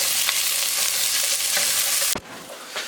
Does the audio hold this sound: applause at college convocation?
no